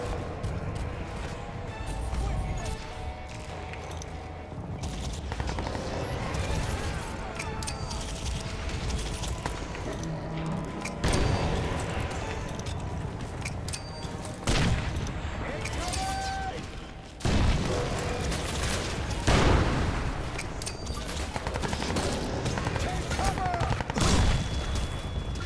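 Gunfire in the shooter game Crysis 2, a dense run of repeated automatic shots and booms across a busy battle soundscape, with someone talking over it at times.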